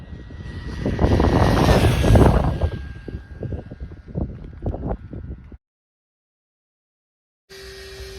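RC car running at full throttle on a LiperiAir 1,500 mAh 4s LiPo, a whining electric motor surging loudly in repeated bursts that fade and cut to silence, followed by a brief steady tone.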